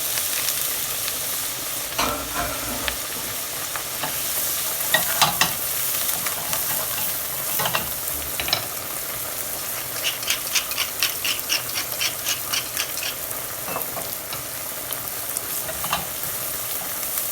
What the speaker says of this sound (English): Whilst I stir the rice